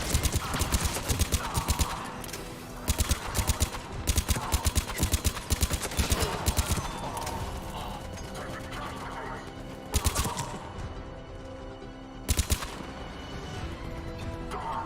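Rapid bursts of gunfire aimed at turrets in the video game Mass Effect 3, coming in loud clustered volleys with short gaps, over steady combat noise and music.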